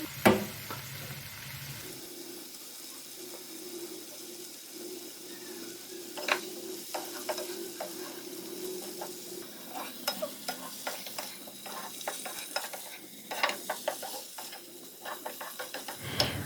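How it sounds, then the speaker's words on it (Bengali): A spatula scrapes and clinks as fried paneer and softened vegetables are turned in a sizzling pan, a soft steady fry under irregular metallic knocks that grow busier toward the end, with a low hum beneath. "সবজিগুলোকে আমি কিছুক্ষণের জন্য ভালো করে নেড়ে চেড়ে রান্না করে নেব"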